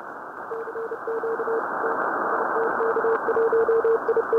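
Morse code CW signals from a ham radio contest station come through as a steady tone keyed in quick dot-dash bursts over a loud hiss of band noise, with the keying growing busier toward the end.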